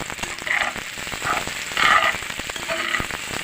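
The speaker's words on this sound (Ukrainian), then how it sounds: "Зажарюю цибулю просто на олії, без ніяких добавок." Chopped onion frying in plain oil in a pan in a summer kitchen, a steady soft sizzle and crackle with a few louder pops, close and continuous with no talk.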